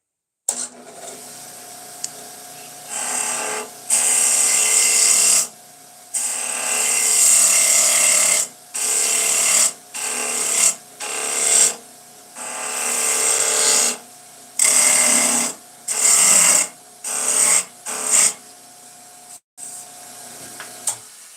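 A lathe whirs in repeated bursts, vibrating heavily, starting and stopping over and over with a high mechanical whine and a low vibrating hum between runs.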